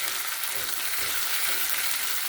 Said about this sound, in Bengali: আদা রসুন বাটাটা একটু ভেজে নিচ্ছি।